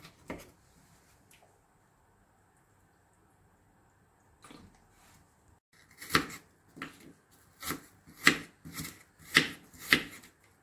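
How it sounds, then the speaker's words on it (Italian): A knife chops an onion on a cutting board, quiet at first, then a run of firm, steady cuts growing louder, with no talking. "Iniziamo a tritare la cipolla"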